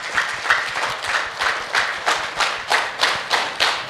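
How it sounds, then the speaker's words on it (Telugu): Loud rhythmic clapping from a group at a meditation training program, nearly a dozen steady claps about one every third of a second, close and with no talk. "గట్టిగా చప్పట్లు కొడదాం."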